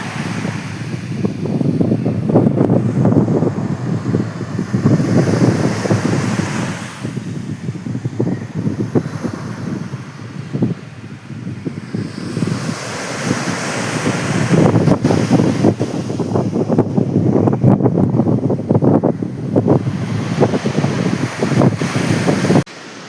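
The sea beside Mumbai's coastal road near the Bandra–Worli sea link surges in a continuous heavy roar of waves, mixed with strong buffeting wind.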